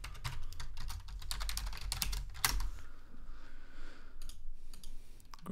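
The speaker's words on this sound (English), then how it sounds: "As usual, you will have to put in your password." Password typed on a computer keyboard: a quick burst of close, dense key clicks for about three seconds, then a pause and a few scattered keystrokes, with no talking.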